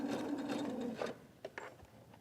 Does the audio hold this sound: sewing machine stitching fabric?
yes